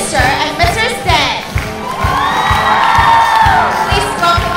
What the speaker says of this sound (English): Let's also give a round of applause to our costume sponsor, Mr. and Mrs. Dan.